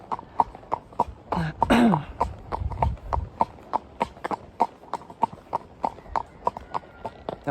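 Horse hooves clip-clop steadily on a trail ride on a windy day, a close, even rhythm of sharp knocks throughout, briefly overlapped near the start by a louder voice-like burst.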